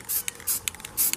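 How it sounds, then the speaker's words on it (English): Spray can misting paint onto bronze car engine connecting rods, in three bursts of hiss separated by shorter puffs, close and fairly loud with no talking. "I don't really need to use any masking for this if I'm careful how I spray"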